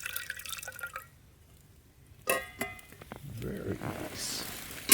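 Hot water poured into a flask to preheat it, a brief close clink followed by a short splashing, rising fill sound in a quiet kitchen.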